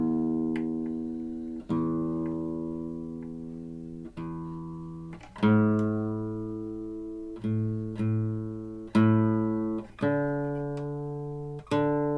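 New guitar strings plucked one at a time while tuning with an electronic tuner, each note ringing out and decaying before the next pluck, about eight plucks, close and clear with no talking.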